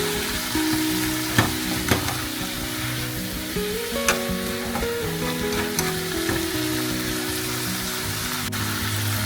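Bean sprouts stir-fry in a hot pan with a constant close sizzle, punctuated by several sharp clicks and scrapes from tossing or a utensil, and no speech.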